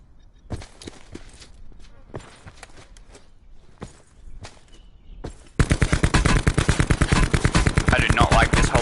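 Video-game gunfire in Call of Duty Black Ops 4 Blackout: scattered single shots and distant pops give way to a loud, sustained automatic burst of rapid, evenly spaced rounds that runs to the end.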